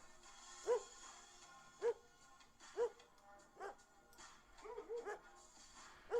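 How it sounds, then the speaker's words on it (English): Dogs at a dog show inside a mall in a video game give short, separate barks and yips about once a second, moderately faint over a low game background, and a voice talks in between. "And now we got our dog show."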